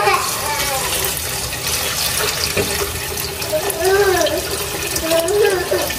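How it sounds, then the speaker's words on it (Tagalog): Water pours into pork cooking in a pan for a Filipino chicken-style pork stew, a steady running, splashing wash of liquid lasting several seconds with a voice faintly audible alongside. "Lagyan na po natin ng tubig."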